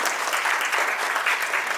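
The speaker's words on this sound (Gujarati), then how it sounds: "સો જય માટે એકવાર જોરદાર તાળીઓ" An audience at a press conference for a music season gives a brief, steady round of applause, full and close.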